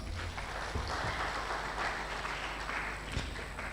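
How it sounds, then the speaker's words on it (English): Conference audience applauding at a Nigerian automotive industry event, a moderately quiet, even patter of many hands clapping that holds steady throughout with no voices over it. "Another round of applause."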